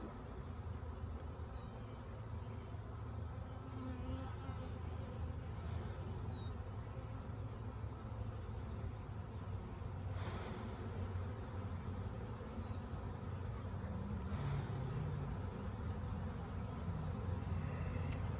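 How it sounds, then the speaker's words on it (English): A dense, constant buzz of honey bees swarms around an open hive, close and loud, with the drone sustained throughout and occasional faint handling sounds. "The bees are flying everywhere now, and this is huge."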